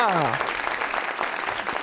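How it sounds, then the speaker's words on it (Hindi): Studio audience on a Pakistani TV comedy show breaks into dense, steady clapping that fills the short moment, with some voices mixed in. "तालियां"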